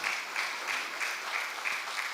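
Audience applause at an annual lecture welcoming a government minister, a steady patter of many hands clapping at moderate volume from a hall crowd, with no voices over it.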